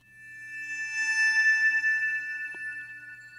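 Resampled Glacier Bowing string layer from Omnisphere sustains a bright, thin bowed tone on its own, swelling gently and fading slightly, with one small click late on.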